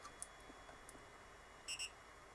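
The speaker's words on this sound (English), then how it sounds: "Double beep." A 3D printer gives a quick double beep, two short high electronic tones close together, faint against a quiet room hum with a few small clicks before.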